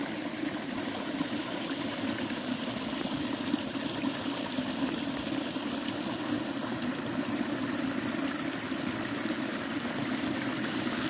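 Steady rushing water from a small forest waterfall spilling into a brown, bog-fed stream near Lake Seliger, constant and fairly loud throughout, with no voices.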